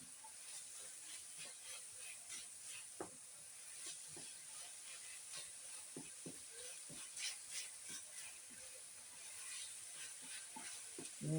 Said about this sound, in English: Just keep stirring that around.